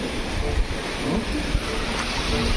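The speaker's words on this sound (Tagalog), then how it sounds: "Ay, lalaki ng alon." Large waves crash and surge near a house during bad weather, a rough continuous wash of water mixed with gusting wind noise on the microphone.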